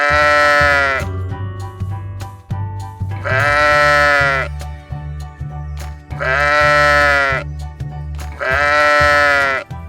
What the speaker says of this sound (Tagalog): Kambing. Lamb.